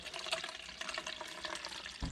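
Clean cooking liquid pours from a fat separator into a measuring cup, a steady, soft trickling splash running continuously at close range with no voices.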